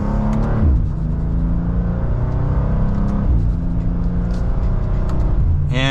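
A 2025 BMW M2 in sport mode pulls through second gear with a steady, loud engine drone and rising harmonics, a continuous close-up rumble from inside the cabin with no talking.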